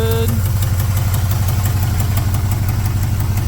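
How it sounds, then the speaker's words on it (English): An LS-swapped Chevrolet C10 engine idles steadily, with a rapid regular clicking from a loose header exhaust leak running through the loud, constant engine rumble. "Yeah, that clicking noise, the header got loose on me or something."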